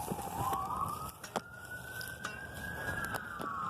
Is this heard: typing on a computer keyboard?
no